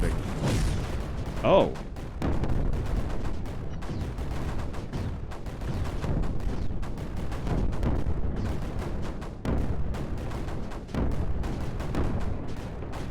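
Repeated explosions and bursts of fire from the tower-defense game Creeper World 4 rumble steadily throughout, dense and continuous, with a brief exclamation early on.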